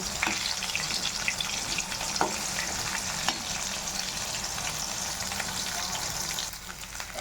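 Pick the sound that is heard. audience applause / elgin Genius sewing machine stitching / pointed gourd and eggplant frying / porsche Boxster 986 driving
pointed gourd and eggplant frying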